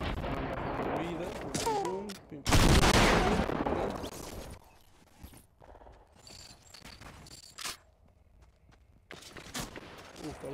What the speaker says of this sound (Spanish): Se empiezan a disparar